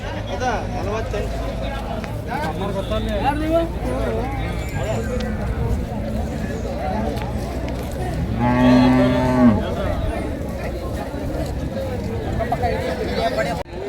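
Calves low and moo among a busy crowd at a cattle market in Ranebennur, Haveri, one long loud moo standing out midway while people talk throughout.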